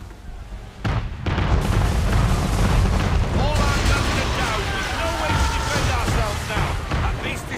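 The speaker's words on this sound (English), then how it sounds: "Man of war's firing!" Man-of-war ship cannons fire in Assassin's Creed 3 as a sudden heavy boom breaks out, followed by sustained rumbling blasts and crackling debris, loud and close, with voices shouting over the barrage.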